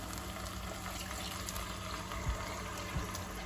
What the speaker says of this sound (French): Et je vais couvrir d'eau